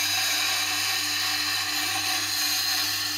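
Tool being sharpened freehand on a powered grinder or sharpening wheel, a steady high whine with a constant hum, close and loud, no talk.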